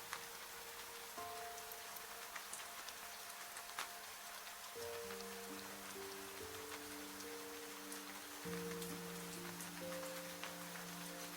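Rain streaks a train cabin window, a steady soft patter and hiss that continues throughout beneath gentle sustained musical tones, with no voices.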